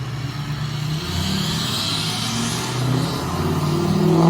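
A 6.0 Powerstroke diesel truck engine runs loud and close with a deep, steady rumble that builds slightly toward the end, with no voices.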